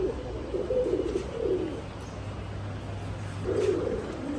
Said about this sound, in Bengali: এটা আমার একটা গররা নর কবুতর